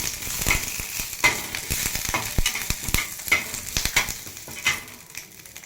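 Curry leaves crackling in hot oil while making raw mango chutney, a close sizzle punctuated by sharp pops and stirring scrapes that fade slightly at the end.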